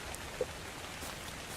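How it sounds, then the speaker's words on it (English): Steady, soft rain hisses evenly in the Ark: Survival Evolved video game, a continuous wash of droplets with no other clear sounds. "And it's raining again."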